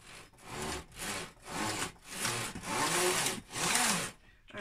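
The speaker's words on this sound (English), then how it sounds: "we'll put the carriage back into operation and we'll see it's starting to move now" A Knitmaster 700 knitting machine carriage slides back and forth in about seven rhythmic passes, each a scraping, rubbing swish with short pauses between, close by and moderately loud.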